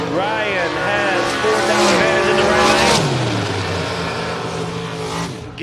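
A drag race car roars loud and close, its engine note climbing and sweeping as it launches down the strip, then fading slightly toward the end.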